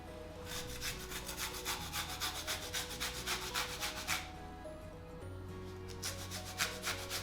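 Courgette being grated by hand for a bake-off, rapid rhythmic rasping strokes close up, loud and steady with a brief pause midway, no talk.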